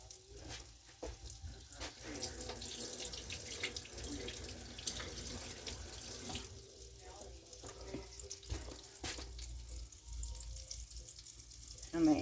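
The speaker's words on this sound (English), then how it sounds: "Shake off the excess and then fry them up." Breaded copycat KFC chicken pieces frying in hot oil give a soft, continuous crackling sizzle that stays faint and steady throughout, with a few scattered pops.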